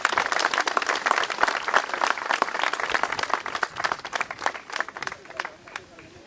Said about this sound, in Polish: Gorące brawa dla drużyn żeńskich.